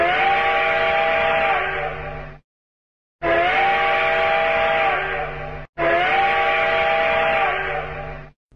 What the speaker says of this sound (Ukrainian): Сигнал про евакуацію з міста звучить як гудок поїзда.